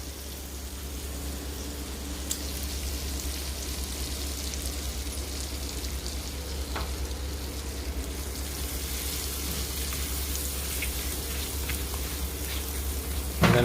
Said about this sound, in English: And I'm sure this is gonna sizzle.